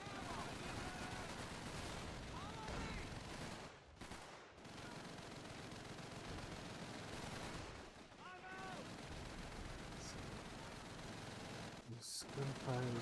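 Constant battlefield din from the video game Call of Duty 3, with dense rolling gunfire and distant blasts under a steady wash of noise, with a voice speaking over it.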